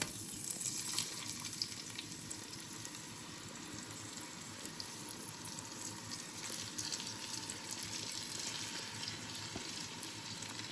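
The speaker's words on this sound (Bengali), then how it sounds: "ছেড়ে এখন ভালো করে মাটনগুলোকে কষিয়ে নেব।" Marinated mutton sizzles and fries steadily in a pan with fried onions, a continuous soft crackling hiss that carries on alone without talk.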